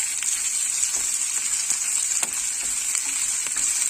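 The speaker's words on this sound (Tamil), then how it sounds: "இப்போ இதோட இந்த கருவேப்பிலை ஒரு 5 தலை இதில் சேர்த்துக்கலாம்" Curry leaves, about five sprigs, crackle and sizzle in hot oil while making cucumber chutney, with a steady bright frying hiss and scattered small pops running throughout and no talking.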